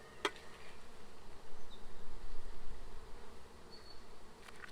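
Honeybees buzz around a small nuc hive just moved to a full brood box, a soft, steady drone of many insects with single bees flitting close by.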